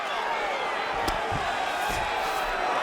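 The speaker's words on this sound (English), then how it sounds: "huge pop from the crowd as the fighters get back up to their feet" Crowd roaring and cheering in the UFC 5 fighting game during a Jose Aldo versus Urijah Faber bout, a steady broad wash of arena noise with a few louder swells as the fighters get back up.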